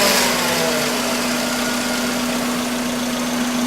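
A car engine idles with a restriction placed in its exhaust, giving a steady, loud, even drone with a constant low hum and no change in speed, with no voices.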